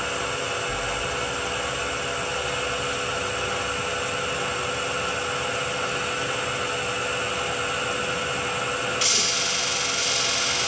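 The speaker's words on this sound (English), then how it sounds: "we lower directly onto the face and start chipping up" A gem faceting machine grinds and smooths a facet on a gemstone, a steady high whirring hiss with a rubbing texture that runs unbroken and close, turning brighter and louder near the end.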